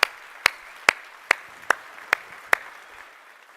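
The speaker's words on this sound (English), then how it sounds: "let's give them all a very big applause." At a Cardano summit gathering, slow, evenly spaced single claps ring out sharply, about seven in a row, each distinct with quiet gaps between and no broader crowd noise.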